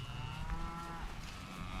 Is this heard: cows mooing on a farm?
yes